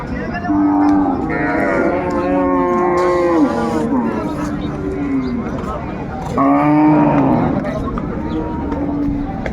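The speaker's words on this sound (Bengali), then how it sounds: "দর্শক দেখছিলাম এখানে চমৎকার একটি গাভী বাছুর দেখছেন" A Sahiwal cow and calf at a cattle market give long, loud mooing calls, two drawn-out bellows separated by a pause, with crowd noise and voices talking in the background.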